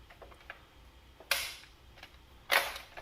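A Nerf blaster's safety lock is clicked: two sharp, close clicks about a second apart, each with a short rattling tail, preceded by faint small ticks, with no talking.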